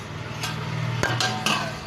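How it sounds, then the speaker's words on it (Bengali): A lid set down on a pot of taro curry after water has been added: a brief metallic clink followed by a couple of light knocks, close and short, over a soft background hiss. "এবার একটু ঢাকা দিয়ে দেবো"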